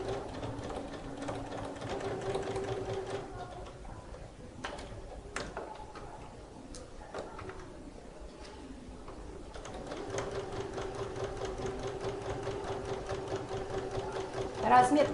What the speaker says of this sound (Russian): Боковой шов стачиваем на 1 сантиметр.